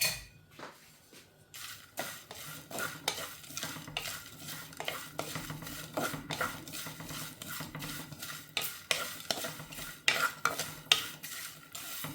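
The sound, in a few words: prawns frying and being stirred in a pan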